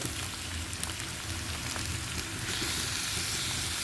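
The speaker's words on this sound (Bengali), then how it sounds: "পিসগুলো ভাজা হয়ে গেছে, আমি এখন দিয়ে দিচ্ছি লাউগুলো।" Pieces of bottle gourd fry in a pan alongside half-fried pieces, giving a steady, crackling sizzle that stays close and even throughout, with no voices.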